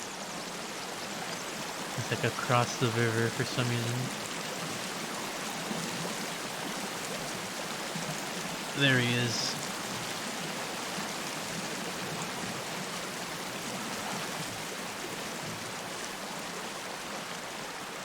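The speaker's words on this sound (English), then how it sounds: "That water is so loud." Loud river water rushing steadily in the Sons of the Forest survival game, a constant broadband roar running the whole way through, with someone talking briefly over it.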